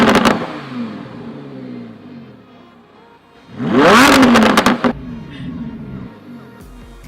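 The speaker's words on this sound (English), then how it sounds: "I'm gonna put it in sport mode, give it a few revs to hear how it sounds" A 2015 Lamborghini Huracan LP 610-4 engine in sport mode idles with a steady rumble, then revs sharply in one loud burst that rises and falls before settling back to idle.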